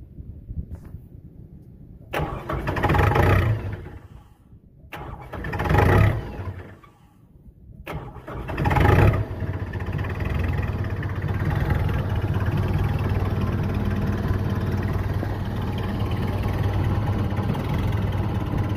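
Kubota tractor diesel engine on a cold morning, cranking in several short bursts before catching and settling into a steady, loud idle that keeps running.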